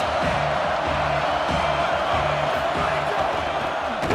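A football stadium crowd cheers loudly and continuously during a Longhorns game, a dense roar of voices filling the whole stretch with no break.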